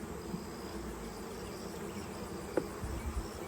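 Honeybees from a colony nesting inside a historic 200-year-old home hum as a faint, steady insect drone, with a brief knock partway through.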